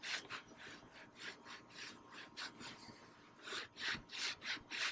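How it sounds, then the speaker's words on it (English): A brush scrubs leather with Chemical Guys leather cleaner in steady, rhythmic rasping strokes, close and fairly loud, with no talking. "Now we'll use this brush again here real quick."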